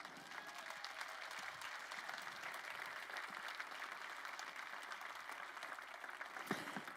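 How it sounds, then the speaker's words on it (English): A large audience at a 2021 university address breaks into steady, sustained applause that holds at an even level throughout, dense and continuous with no clear pauses. "please give yourselves a huge round of applause"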